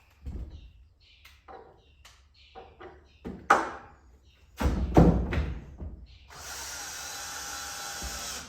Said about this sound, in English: Now we can put the screw in.